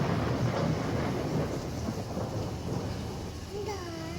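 Light rain falling steadily outdoors at a home, a soft continuous hiss with low rumbling underneath, and a faint tonal sound rising near the end.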